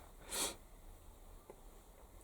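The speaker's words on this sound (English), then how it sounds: "Pardon me sniffing." A person gives one short, sharp nasal sniff near the microphone, followed by quiet room noise and a faint click at the end.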